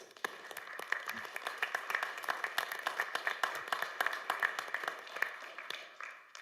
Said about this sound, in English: Let's give our firefighters a round of applause.